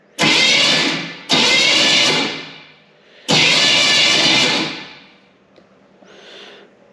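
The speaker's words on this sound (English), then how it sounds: "starter sounds good" A 1923 T Bucket roadster's starter cranks its locked-up engine three times in bursts, each with a loud rushing whir that trails off, followed by a brief quieter whine.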